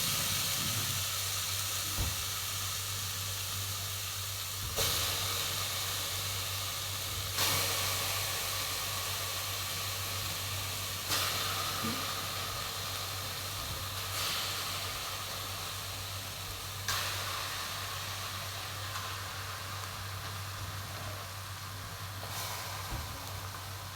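A pressure cooker holding chicken hisses with a steady, close jet of steam, and louder bursts surge every few seconds over a low background hum.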